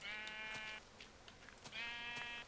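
Two loud, drawn-out sheep bleats from Minecraft, one at the start and one near the end, with soft clicks and game sounds in the quiet gap between.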